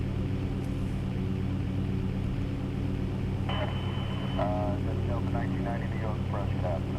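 Piper light aircraft engine in the X-Plane 8 flight simulator, a steady droning hum that fills the whole stretch, with someone talking over it toward the end.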